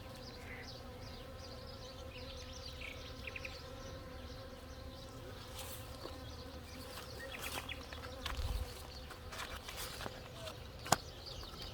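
A steady drone of bees buzzing fills the air, with a few individual insects passing close by and occasional faint outdoor sounds in the background.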